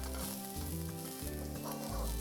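Garlic cloves and onions fry in hot oil in a pan, giving a close, even sizzle that hisses continuously throughout with faint stirring underneath and no voices.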